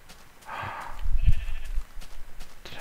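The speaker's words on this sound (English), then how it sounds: "Yeah, it was another sheep." A sheep in the Minecraft video game bleats once or twice, a short nasal baa standing over a low, rumbling background.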